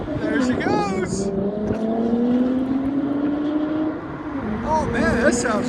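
A straight-piped 2023 Nissan Z 3.0 twin-turbo with a 6-speed manual pulls away, its loud exhaust drone rising steadily through the gear before a shift and a fresh surge, with voices audible at the start and end.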